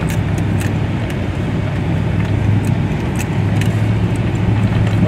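Truck driving through deep snow on a remote route, skidding sideways over crooked tracks: a steady, loud engine rumble with a continuous low drone and occasional faint clicks and rattles, no voices.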